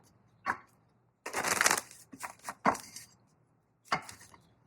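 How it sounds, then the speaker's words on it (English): Tarot cards are shuffled in several short bursts of riffling and snapping, with quiet pauses between them, close and crisp. "we're going to go ahead and do a couple more shuffles"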